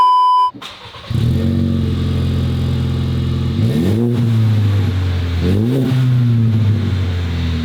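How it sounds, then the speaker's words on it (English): Car fitted with a full MagnaFlow catback exhaust starts up, settles into a smooth, steady idle, then gets two rising revs that drop back to idle, loud and close with no talking. "we got the full catback exhaust on here, and we are ready to hear it and see what these MagnaFlows sound like"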